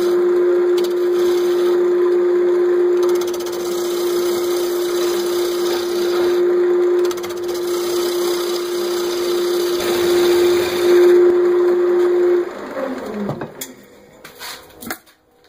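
A pin oak hollow form is hollowed out on a woodturning lathe: a steady motor hum with continuous cutting noise runs for about twelve seconds, then the tool stops and the sound trails off.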